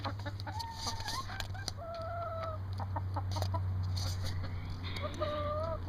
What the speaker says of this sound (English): run for that chicken with the biggest comb in the back